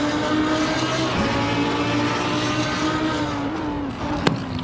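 Racing car engines in the sim game Assetto Corsa at the Belgian Grand Prix circuit, a steady sustained high drone with shifting pitch, loud and continuous with no talk.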